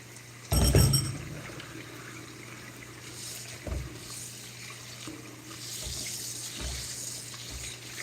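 Food being rinsed under a running sink faucet, with a soft steady water flow and a louder splash near the start. A few brief knocks and clatters sit low in the background.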